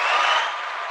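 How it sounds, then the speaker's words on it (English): A large group claps in a round of applause at a virtual business summit, a steady dense patter lasting about a second that eases slightly toward the end, with no talking over it. "I want to give you guys a big round of applause,"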